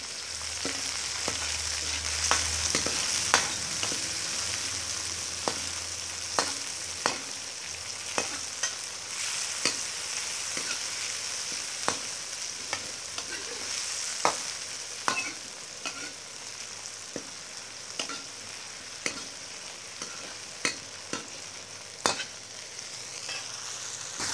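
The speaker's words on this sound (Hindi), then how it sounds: "हरी मिर्च, इसको अच्छी तरह हिलाएं।" Green chilies and coriander sizzle steadily in a pan while being stirred for rajma, with sharp, regular scraping clacks of a spoon against the pan repeating every second or so over a constant frying hiss.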